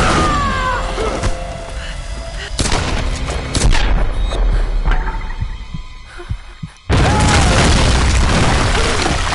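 Grenade launcher blasts in the video game Tomb Raider 2013: several heavy booms and sharp bursts crash in close succession, with loud rumbling noise between them, a brief near-silent gap, then another loud burst.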